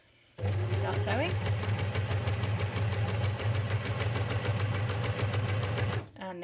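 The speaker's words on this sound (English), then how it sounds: "It is like a sewing machine rather than an overlocker in terms of you start with the fabric underneath. You start sewing," A coverstitch machine sews fabric in one continuous run of about six seconds, a fast steady mechanical whirr and rattle starting and stopping abruptly, close and loud.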